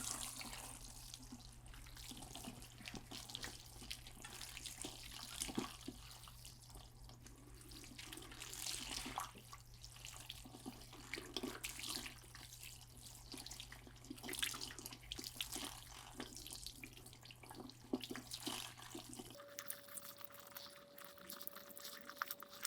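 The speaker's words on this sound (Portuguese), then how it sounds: "Então vou enxaguar aqui." Tap water runs steadily into a barbershop sink while hair bleached platinum is rinsed, a continuous close splashing rush with small shifts as the head moves, stopping near the end to leave a faint hum.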